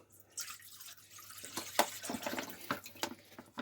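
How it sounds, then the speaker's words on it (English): Negashio broth is poured into a cooking pot, a quiet splashing and trickling of liquid with a few drippy bursts, close by and faint. "So we're going to start by putting in my negashio broth here."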